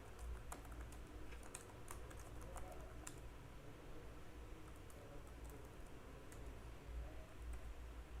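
Quiet, steady typing on a computer keyboard as a product name is entered, with soft rapid key clicks and a few sharper taps over a low background hum, no voices.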